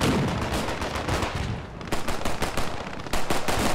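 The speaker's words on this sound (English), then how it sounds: "Meanwhile, Crocodile gets shot." Rapid automatic gunfire from the WWII video game Post Scriptum crackles in loud, dense bursts and overlapping shots, with a brief lull midway before the firing picks up again.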